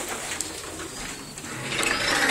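Racing pigeons coo softly inside a loft, low murmuring calls blending with rustling and fluttering, close by and continuous throughout.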